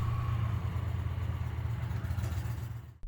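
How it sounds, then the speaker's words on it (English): A 2025 Indian Roadmaster Powerplus idles with a steady low rumble, close and even, before cutting off abruptly at the end. "start the engine and let it idle for approximately 30 seconds"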